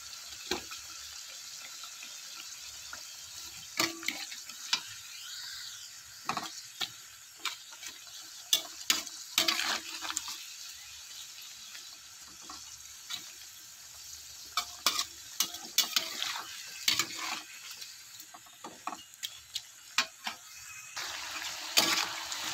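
Sweet potato frying with sugar melting and caramelizing, a soft background sizzle broken by frequent scraping stirs and sharp crackles, uneven and close, with no talk.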